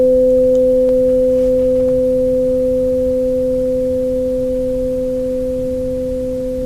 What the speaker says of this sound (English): you'll hear that sustained frequency